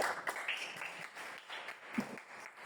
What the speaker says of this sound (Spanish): Un aplauso para ellos.